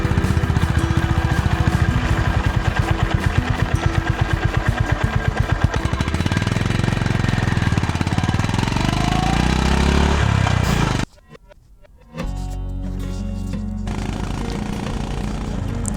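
A motorcycle engine runs loud and close with a rough, rapid pulsing rumble, cutting out abruptly for about a second before resuming at a steadier drone.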